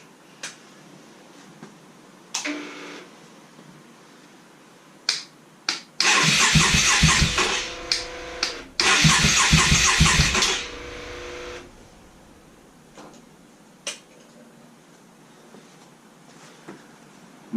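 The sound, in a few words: Yamaha XV950 Bolt motorcycle engine with Delkevic exhaust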